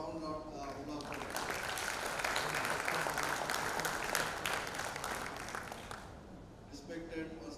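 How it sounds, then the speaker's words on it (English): A conference crowd claps steadily for several seconds, a dense wash of applause that swells and then fades, with a voice faintly under it at the end. "we should give a right of round of applause for them."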